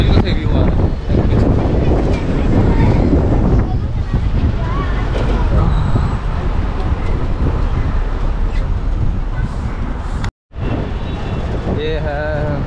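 Strong wind buffets the microphone on the open upper deck of a double-decker bus in Mumbai, a continuous loud rumble with faint traffic beneath, briefly cutting out near the end.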